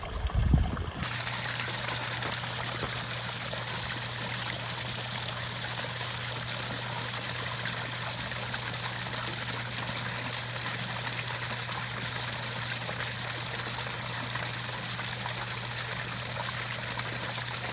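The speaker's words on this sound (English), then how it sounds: "This is where the water flows up from the pump." Pumped water wells up and flows steadily into a chickens' drinking spot, a continuous close trickling stream with a low constant pump hum underneath, after a brief louder knock at the start.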